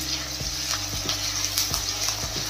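Garlic and onions sizzle steadily in a pan for kadhi while a spoon scrapes and stirs through them in a few irregular strokes, close and moderately loud with no talking.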